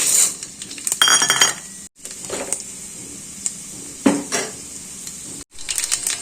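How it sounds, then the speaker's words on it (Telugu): Tempering spices and fenugreek seeds crackle and sizzle in hot oil, with bursts of frying and a few clinks of a utensil against the pan. "ఇప్పుడు పోపు దినుసులు"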